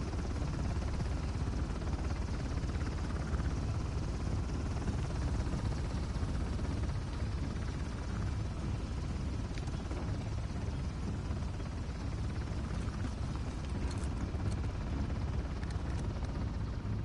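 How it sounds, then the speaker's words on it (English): Helicopter in the action-adventure game Uncharted: The Lost Legacy, a steady, dense rotor and engine rumble filling the whole stretch without pause, loud and constant with no clear talk over it. "helicopter. Go away."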